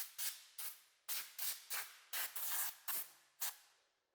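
Plum Wheel Cleaner sprayed onto the brake and suspension parts of an abandoned Fiat 124, about nine short, sharp hissing trigger bursts in an uneven rhythm, close and fairly faint.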